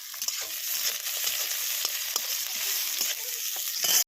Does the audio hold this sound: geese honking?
no